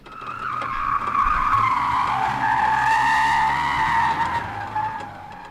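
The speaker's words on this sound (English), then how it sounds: "A sedan fishtailed across the center line out of nowhere, spinning like it had hit ice." Car tires screech and skid loudly as a sedan fishtails and spins across a road, a sustained wavering squeal lasting several seconds with engine noise beneath, heard alone without speech.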